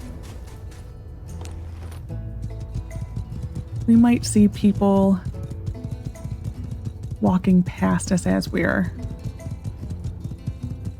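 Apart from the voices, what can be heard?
horse hooves clip-clopping while riding in My Time at Sandrock (video game)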